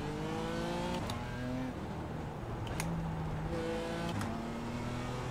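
A damaged race car engine in iRacing revs in repeated rising surges, loud and close, with a rough, steady drone between the pulls and no talk.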